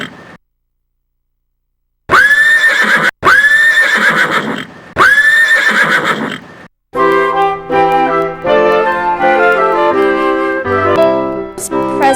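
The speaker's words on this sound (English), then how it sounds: "Let me borrow your horse, Alexander Hamilton. I'm going down there myself." A horse gives three loud, close whinnies separated by brief pauses. A stretch of tonal music with a bright, ringing instrumental sound follows.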